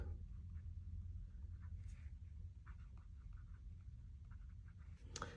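A wet, smooth fountain pen nib glides across paper, producing faint, close scratching strokes in short intermittent bursts over a low background hum.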